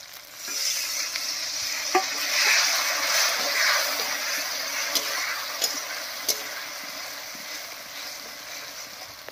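Ground spice paste fries with water and potatoes in a pan, producing a bubbling sizzle that swells and settles, broken by several crisp clicks of a stirring spoon.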